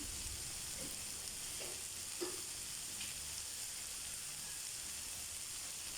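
Egg and kangkung (water spinach) fry in a pan for a devilled dish, giving a steady, even sizzle with a few faint stirring scrapes, close and alone with no talk.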